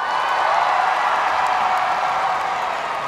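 Graduation convocation audience cheering and clapping for a contestant, a dense, continuous wash of crowd noise and applause that holds steady and loud from start to finish.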